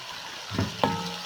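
Minced meat (keema) added to a pan of tomato masala for a keema and capsicum curry, giving two quick sizzling bursts over a soft steady frying hiss, close and moderately loud.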